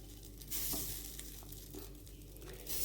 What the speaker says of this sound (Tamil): நான் இன்றைக்கி சாலோ ஃப்ரை தான் பண்ணுறேன்